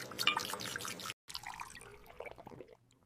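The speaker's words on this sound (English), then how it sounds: "I rinse my mouth." Water splashes and drips in a bathroom while someone rinses their mouth, a short spluttering burst, a brief silence, then softer trickling that fades out.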